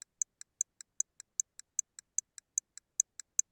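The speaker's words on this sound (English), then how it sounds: "It's already ticking." Steady ticking of a timer, evenly spaced sharp ticks about five per second, close and clear with no other sound.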